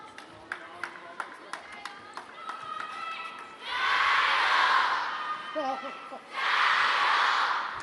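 A home crowd at a table tennis mixed team match cheers in two loud roaring swells, after a rally of sharp ball ticks and clapping; a commentator speaks briefly between them.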